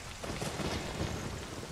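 Rain summoned in a Zelda video game, a dense, steady hiss of falling rain with a low rumbling undertone, continuous and fairly loud throughout.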